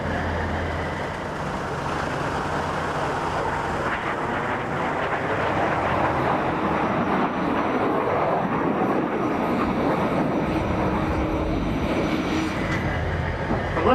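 Red Arrows jet aircraft performing a flying display overhead in 1999, a continuous, broad, rumbling jet roar that holds steady throughout with no speech.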